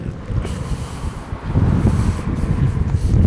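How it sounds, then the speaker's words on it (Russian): Strong wind buffets outdoors, a loud rumbling roar across the microphone that swells louder in gusts, with no talk. "Тут ветра много."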